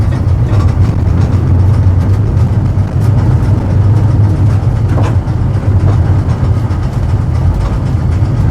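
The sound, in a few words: old tram riding in Brussels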